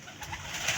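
A pigeon coos softly, a brief low murmuring call close by with faint background noise.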